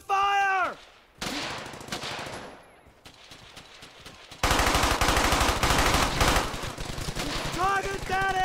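Rapid machine gun bursts fire in the World War II video game Brothers In Arms: Hell's Highway, loud and dense rattling volleys with short pauses between them, mixed with shouted voices and battlefield noise.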